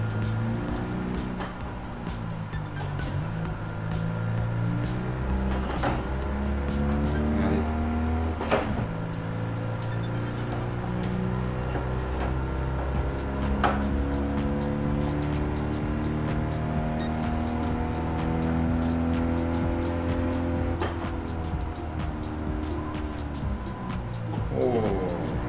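A small car with a flat twin-cylinder engine like a 2CV's, rated 17 horsepower, driving along, its engine droning and rising and falling through the gears with repeated revving sweeps and occasional clunks, close and continuous for the whole stretch.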